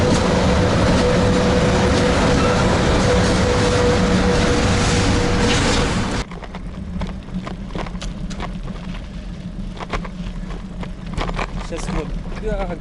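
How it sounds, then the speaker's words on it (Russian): An electric commuter train rolls past near a railway bridge in Zelenodolsk, Tatarstan, a loud steady roar that drops off abruptly partway through, leaving quieter rumbling and rattling clatter afterward. "Поезд какой-то идет."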